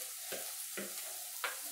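Garlic and shrimp sautéing in hot oil in a home kitchen, a steady sizzle broken by three scraping stirs of the pan, close and loud with no voices.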